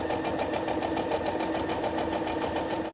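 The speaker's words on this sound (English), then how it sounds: "I'm basically just going to run this through the sewing machine and sew underneath the elastic" A sewing machine stitches fabric beneath elastic, a fast, even mechanical rattle of needle strokes running steadily and close, stopping abruptly at the end.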